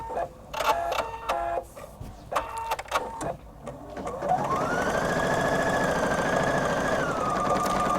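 A Husqvarna Viking embroidery machine felts a hooped piece, starting with several short stop-start mechanical bursts before settling into a continuous, even whirring run of rapid needle strokes, close and steady.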